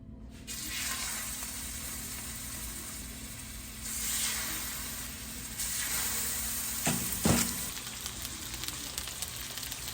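Oil sizzling and frying in a hot pan while cooking a beef burger steak, a steady close crackling hiss that swells and fades with a couple of brief sharper spatters.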